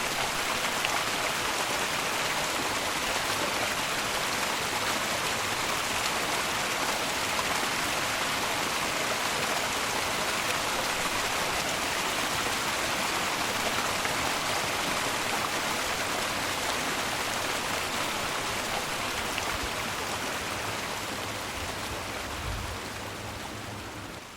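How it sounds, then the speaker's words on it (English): The River Roffey flows below a hillside trail in the Howgills, a steady broadband rush of moving water that stays even throughout with no voices. "that's the river Roffey down there."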